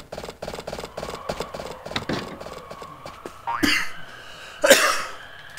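A man coughs twice, loud and close, during a commentary session of playing a video game, after a run of light tapping and clicking.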